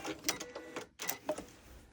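Sewing machine stitching quilt fabric with back stitches, a quiet, brief run of rapid mechanical clattering bursts with a short pause in the middle.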